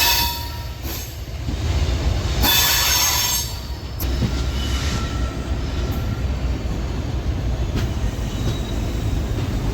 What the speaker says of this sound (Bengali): Guwahati Silchar passenger train.